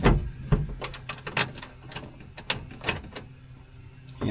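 A ratchet drives big screws into the door latch of a 2010 Honda Odyssey, giving a close series of quick metallic clicks and ratcheting pulses with irregular spacing and small knocks.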